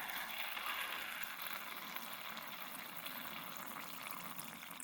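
Water poured into a bowl for an invertebrate: a steady, soft rushing trickle that runs continuously and fairly quietly without a break.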